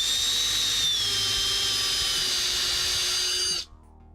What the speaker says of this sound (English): if you ever use like a drill, an electric drill to drive screws in and out of plastic really quick, the screws get really hot